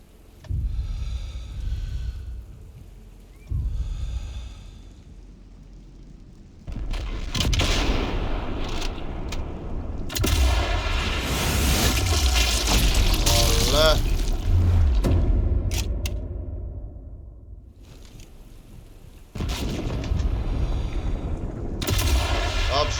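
Sniper rifle fire and explosions in the video game Sniper Elite 5, Atlantic Wall mission: loud booming gunfire and blasts in sustained bursts over a rumbling battle backdrop, with a voice talking at times.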